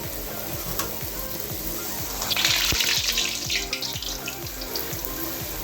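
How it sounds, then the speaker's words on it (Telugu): Puri hisses and sizzles as it goes into hot oil in a kitchen, a close, bubbling frying sound that swells louder midway and then settles, with faint clinks and no talk. "ఇదిగోండి ఆయిల్ బాగా వేడైంది. ఇప్పుడు పూరి వేసేస్తున్నాను."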